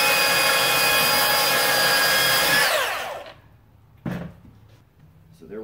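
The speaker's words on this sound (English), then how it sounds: "P450 Ryobi belt sander" A Ryobi P450 18V cordless belt sander running loud and steady with a high whine, then winding down and stopping, followed by a short burst of restart and quieter handling noise.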